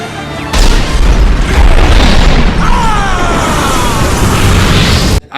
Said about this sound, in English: the Grinch jumping in front of an explosion in slow motion